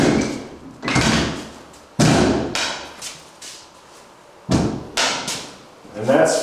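Closet doors being swung and shut in a mold-damaged rental property: several loud close thuds and scraping slides in irregular succession, with brief speech between them.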